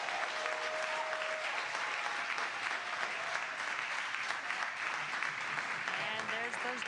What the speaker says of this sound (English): you can hear the crowd here very excited to see them deploy